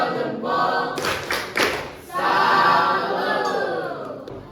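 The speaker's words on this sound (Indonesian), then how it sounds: "Kita berikan tepuk salut" A classroom audience applauds and cheers after a group presentation, a loud, dense burst of clapping and voices that swells, dips, then rises again and holds steady.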